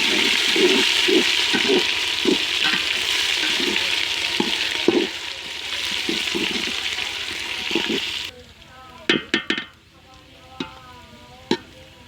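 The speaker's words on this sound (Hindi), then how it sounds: "अब हम इसमें डाल देंगे अदरक का पेस्ट। 1-2 मिनट बस हमने इसको भूनना है।" Ginger paste frying in a pan for aloo pulao, a steady hiss and sizzle with repeated stirring scrapes for about eight seconds, then quieter with a few sharp clinks and taps.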